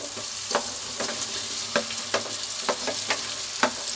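Potatoes fry in spiced oil in a kadai for dhaba-style aloo matar, a continuous bright sizzle punctuated by regular spatula scrapes roughly every half second, close and alone.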